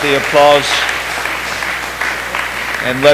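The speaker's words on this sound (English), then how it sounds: "Let's give you all a round of applause." Applause from an audience at a patch ceremony, a steady broadband wash of clapping that runs across the clip, with a voice speaking briefly at the start and again at the end.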